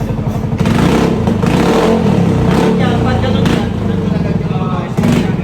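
A Yamaha Nmax 155 scooter with a Villain aftermarket muffler revs loudly up close, rising and falling in bursts with a rough, rattling idle between throttle blips.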